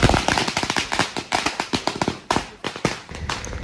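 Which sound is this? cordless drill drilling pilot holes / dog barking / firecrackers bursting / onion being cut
firecrackers bursting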